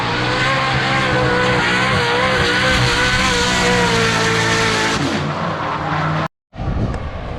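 A pro Formula Drift car roars at full throttle close by for several seconds, a loud sustained engine snarl that drops briefly in pitch, cuts to a near-silent gap, then bursts back in.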